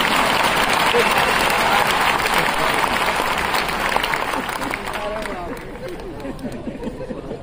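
An audience at a business program event in Nagpur applauds in dense, loud clapping that slowly thins and fades toward the end, with crowd chatter mixed in.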